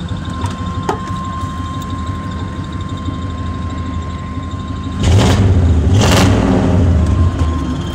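A 1995 GMC pickup truck engine idles steadily, then revs up loudly twice in quick bursts before settling into a higher, sustained drone.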